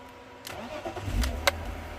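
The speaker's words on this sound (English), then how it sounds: "Let's gonna start the engine." BMW 323Ci E46 with a poor-running, stalling fault cranks briefly and then catches, the engine firing up close by into a low rough idle with a sharp click near the end.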